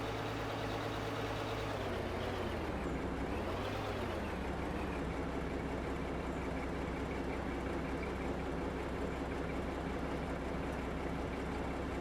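A heavy mining truck in Out of Ore, bouncing on big springs while driven aggressively, gives a steady loud engine drone with a brief rise in pitch, continuous and close, with no voices.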